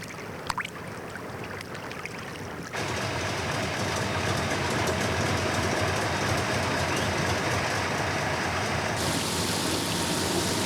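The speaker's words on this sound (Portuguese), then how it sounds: "Enquanto o trem carregado segue para o acampamento," Loaded salt train rolling along a railway across a salt flat, a steady rumbling rush that starts quieter, then swells abruptly and stays loud and continuous, with faint clicks early on.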